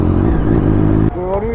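Triumph Daytona 675 superbike engine revving close by in a public street, a loud sustained rev that drops and settles toward a lower tone near the end.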